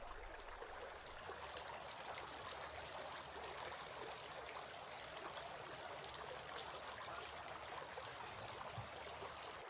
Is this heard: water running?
yes